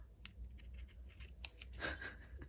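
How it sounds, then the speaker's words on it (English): Big, bulky, heavy scissors snip repeatedly at close range, a quick series of crisp metallic cuts with a louder, longer cut near the end, in a quiet room. "these are not exactly fine cutting scissors. They're a little big and bulky and heavy and not exactly for fine work."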